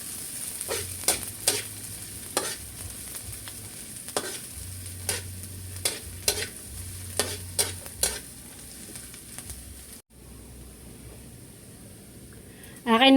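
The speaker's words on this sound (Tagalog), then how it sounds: "bawang sibuyas, saka po yung luya. Akin na pong pagsasabay-sabayin. Akin lang pong hahaluin." Garlic, onion and ginger sizzle in a pan, stirred with sharp intermittent scraping strokes through about ten seconds before quieting, with a voice briefly present.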